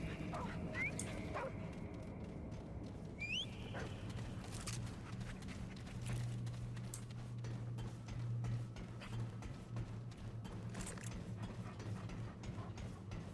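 Bird, a companion dog in the co-op shooter Remnant 2, barks a few times in the mix over a steady low in-game hum, with clanking mechanical game sounds nearby and quiet talk.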